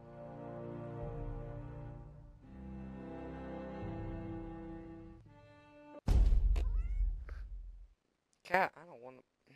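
A house cat meows loudly near the microphone several times in the second half, while a voice talks over the earlier part.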